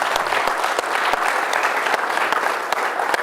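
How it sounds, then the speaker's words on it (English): Steady audience applause at a business summit presentation, dense clapping with a few sharper individual claps standing out throughout. "let's give a round of applause for that"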